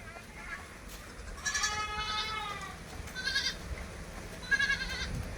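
Goats at a livestock sale bleat in several drawn-out, wavering calls, some close and some farther off, with quiet background noise between them.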